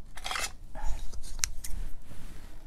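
Scissors cutting through scrap material during a furniture flip, a few quick crisp snips close by amid handling noise, with no talk over them.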